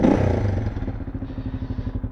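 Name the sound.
motorcycle with stock exhaust, core hollowed out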